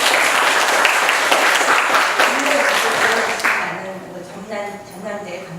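An audience at a national academic conference of Korean historical linguistics fills the hall with sustained, dense applause for several seconds, then tapers off as a voice starts talking over the dying claps.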